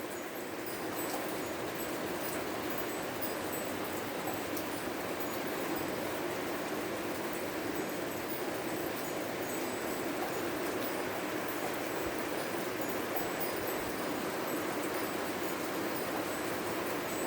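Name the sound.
heavy rain during thunderstorm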